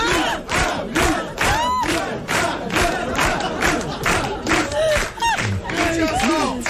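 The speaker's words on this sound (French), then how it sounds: "Et ovation à Alice." A television studio audience gives Alice Sapritch an ovation, a loud dense wall of applause and cheering with shouts rising above the clapping, pulsing in waves throughout.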